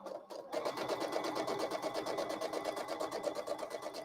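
A sewing machine stitches quilt pieces, starting after a short pause and then running at a fast, steady rhythmic chatter close by, with no voices.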